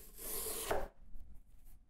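A manual skiving and splitting machine pares the edge of a leather belt, flesh side up, making one close, rough rasping stroke that ends abruptly and leaves faint handling noises.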